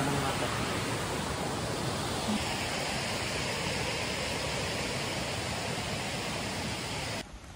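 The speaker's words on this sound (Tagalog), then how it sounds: "Kami ngayon sa waterfall of Bradford." Goit Stock waterfall near Bradford roars as a steady, loud broadband rush of falling water, unbroken and close for the whole stretch before cutting off at the end.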